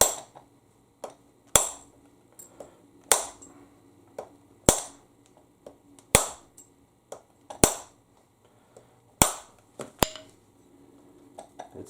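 Hammer blows on a 2002 Lexus RX300 U140 automatic transmission part during disassembly, sharp metallic strikes repeating about every one and a half seconds with lighter taps between, ringing briefly in a quiet workshop.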